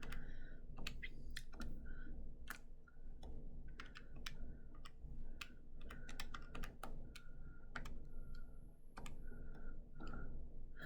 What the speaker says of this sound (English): you guys hear the clacking of my calculator